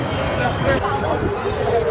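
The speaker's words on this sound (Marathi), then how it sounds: "दसरा आहे म्हणून रास गर्दी आहे जीवदानीवर." Dense crowd murmur at Jivdani temple in Virar during Dussehra, a steady hubbub of many overlapping voices close around, continuous for the whole stretch with no single sound standing out.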